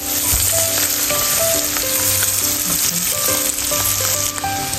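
Steady, loud sizzling of greens frying in a hot pan, with occasional stirring scrapes throughout and no talking.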